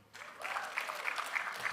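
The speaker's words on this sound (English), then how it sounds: "A round of applause for him" A brief burst of audience applause for a guest on a talk show, moderate clapping that starts suddenly and holds steady, slightly distant.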